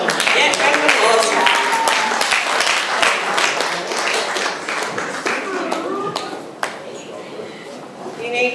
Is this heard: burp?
no